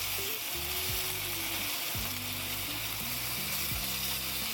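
Beef rice noodle rolls pan-frying over raised heat until lightly charred, a steady close sizzle with scraping and stirring clinks from a spatula or pan.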